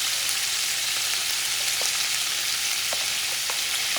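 Onions fry with crumbled longaniza sausage in a pan, giving a dense, steady hiss of sizzling fat with small pops scattered through it, loud and close with no voices.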